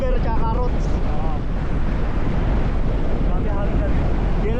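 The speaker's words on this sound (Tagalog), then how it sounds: "Grabe hangin na rin" Strong wind buffets the microphone during a ride, a loud continuous rumbling roar throughout, with a voice speaking over it near the start and again briefly later.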